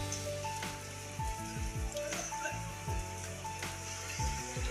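Heavy rain pours down around a jungle-view restaurant, a soft, continuous hiss with scattered drops and faint tonal background sounds, quiet and fairly distant.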